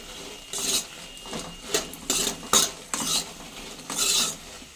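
Curry leaves and chillies roasting in a hot pan, heard as bursts of crackling and scraping stirring, several separate surges with short pauses between, fairly close and alone with no talk.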